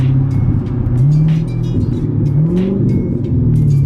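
A loud, deep straight-piped C7 Corvette exhaust rumbles up close, engine revving up and down in repeated surges with crackling backfire pops on top.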